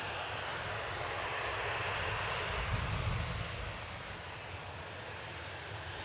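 A Turkish Airlines Airbus A321neo arriving from Istanbul lands at Manchester Airport, its engines a steady broad roar that swells slightly midway and then holds, heard from a distance with no talk.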